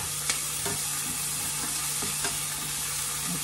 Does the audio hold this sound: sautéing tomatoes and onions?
yes